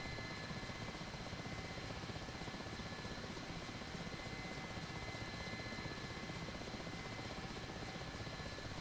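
Mi-8 helicopter lifting off in the DCS flight simulator, a steady, loud rotor and turbine roar with a constant high whine, unbroken for the whole stretch.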